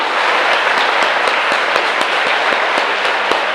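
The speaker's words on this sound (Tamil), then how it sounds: "ஒரு கைத்தட்டல் தரலாமா?" An audience at a Rotary Club event claps steadily, a dense, even wash of hand claps with a few sharper individual claps standing out, continuous and fairly close with no voices over it.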